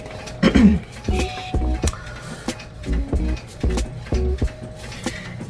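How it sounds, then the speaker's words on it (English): A sublimation printer runs a second page in the background, producing repeated mechanical bursts of feed and carriage movement at a steady rhythm, moderately close, with no speech. "now what you hear in the background is the printer printing the second page"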